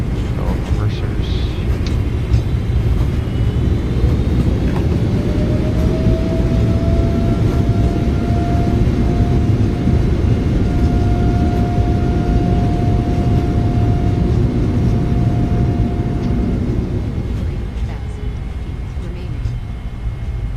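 Airliner thrust reversers roar on landing in MSFS 2024, a loud sustained broadband rumble with a rising tonal whine, holding steady for most of the clip before easing off near the end.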